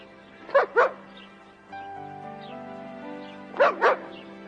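Two sharp pairs of barks from Rex, a dog, near and loud, with a quieter hum between the pairs and one more pair of barks at the end.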